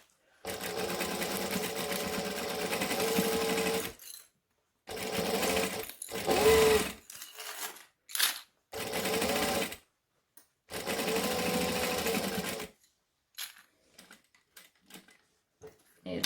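A sewing machine stitching and back stitching a fabric bag, several loud steady bursts of running motor and needle a few seconds each, separated by brief pauses and small handling clicks, close by.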